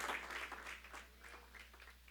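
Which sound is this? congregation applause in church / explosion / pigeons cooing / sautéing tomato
congregation applause in church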